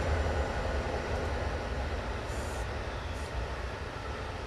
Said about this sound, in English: And this is quite a long train here.